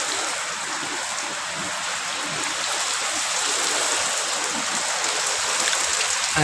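Heavy rain pours down in Punjab in a dense, steady hiss that grows slightly louder, with no voices over it.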